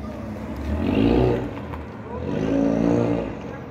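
A car passes close by on a street beside a tape-ball cricket match, its engine swelling twice as it moves through, loud and steady, with faint voices around.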